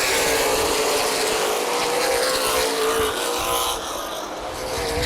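CRA Super Series race cars speed around Anderson Speedway under green flag racing, a loud continuous engine roar with a steady tone that dips slightly toward the end.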